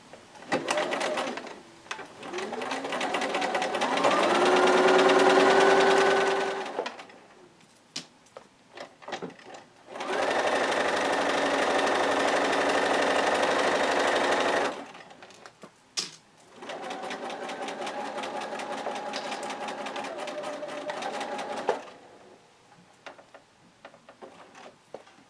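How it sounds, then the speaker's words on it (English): A sewing machine stitches quilt blocks in three long bursts of steady mechanical whirring, each several seconds long, with brief quiet pauses between them. "I've pinned the entire row before I came over to the sewing machine."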